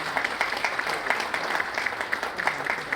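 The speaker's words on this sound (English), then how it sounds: "please join me in warmly applauding and welcome the team of Maravis to the dais" Audience applause at the Indian Chamber of Commerce and Industry Coimbatore G.K. Sundaram Award ceremony, a steady wash of many hands clapping in a hall, moderately near, continuous without speech.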